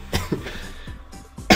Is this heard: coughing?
yes